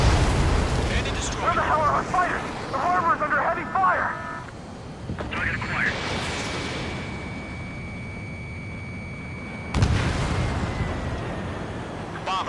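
Missiles explode in an air-combat video game, with heavy booming blasts and a rumbling roar, a sustained warning tone, and a sharp burst near the end, all under loud ongoing voices.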